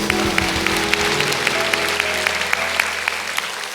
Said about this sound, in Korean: 오늘도 함께 하시는 하나님께 영광의 박수 올려드리겠습니다